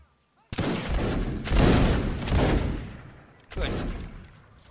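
A musket volley in a video game line battle: a sudden loud ragged crash of many shots after brief quiet, rolling on, followed by a second volley burst, all close and booming.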